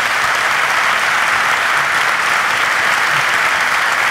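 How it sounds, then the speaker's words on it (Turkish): A studio audience claps loudly and steadily for several seconds at the close of a Turkish talk show, dense and even with no break. "Alkışlarla bay bay."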